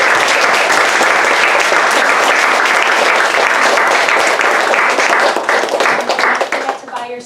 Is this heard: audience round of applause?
yes